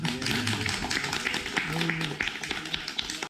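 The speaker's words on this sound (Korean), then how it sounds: "일단 박수부터" Applause from a group at a club outing, steady clapping from many hands held up for several seconds, with voices and chatter mixed in underneath.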